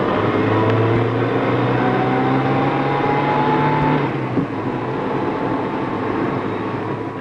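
Rally cars on the Monte Carlo Rally, including a Danish Ford team, drive over icy winter roads, a steady engine drone holding throughout, with a whining pitch that climbs and then drops away.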